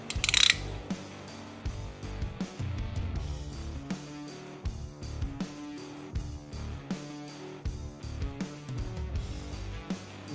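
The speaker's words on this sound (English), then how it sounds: "To remove the current chain tensioner, you're going to use a T27 and just break them loose." A T27 driver breaks loose the chain tensioner screws on a Harley-Davidson Milwaukee-Eight engine. It makes a near, steady run of light ratcheting clicks and metallic ticks, fairly quiet, with no talking.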